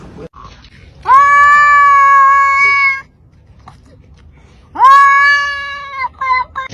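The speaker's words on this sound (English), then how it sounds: "It's just a cat." A cat meows loudly and close by in two long, drawn-out calls separated by a pause, the second trailing into shorter broken sounds.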